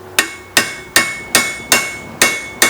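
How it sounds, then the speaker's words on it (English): A big hammer strikes a steel tube punch seven times at an even pace, tapping in parts during a Land Cruiser 60 Series brake upgrade. Each sharp metallic tap rings briefly before the next. "I'm going to take a big hammer and my very technical punch here"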